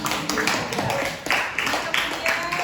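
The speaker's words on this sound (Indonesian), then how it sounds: "Kita tepuk tangan dulu untuk kelompok" A school class applauds a student group after their presentation: a close, dense patter of many hands clapping together, fairly loud and sustained, with some voices mixed in.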